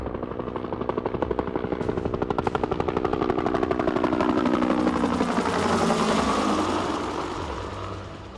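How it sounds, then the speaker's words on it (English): Vintage military helicopter, a Hiller UH-12B or Sikorsky UH-34D, with rotor blades thumping rapidly as the engine swells louder and nearer, then eases off toward the end. "Out in the jungle, you learn to listen for one sound above all others:"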